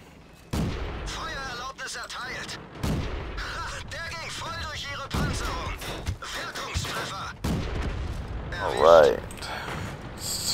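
Machine gun rounds striking the armour of a Pz Kpfw S35 739 (F) tank in a tank video game, sharp impacts and bursts scattered under someone talking throughout.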